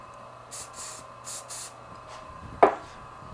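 CA glue activator sprays onto a wooden pen blank in four short hissing bursts, close by, followed by a sharper knock or click near the end.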